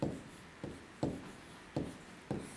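Pen or marker writing numbers during a class 5 maths lesson on division and fractions, heard as five quiet scratchy strokes at a steady pace, close up and with no talk.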